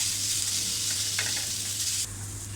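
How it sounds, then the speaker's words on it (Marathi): Chopped onion dry-roasting in a pan without oil, giving a steady soft sizzle and hiss with a brief stirring scrape partway through, close and moderately quiet, over a low hum. "कांदा थोडा आपण असा गुलाबी रंग येईपर्यंत परतून घेऊया अगोदर आपल्याला तेल घालायचं नाही"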